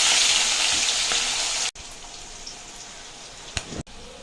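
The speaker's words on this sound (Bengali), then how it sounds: "জিরে আর শুকনো লঙ্কা দিয়ে দিলাম, পেঁয়াজগুলো দিয়ে দিলাম" Onions, cumin and dried chillies hit hot oil with a loud, dense sizzle that drops sharply partway through to a quieter bubbling fry, punctuated by a couple of clicks near the end.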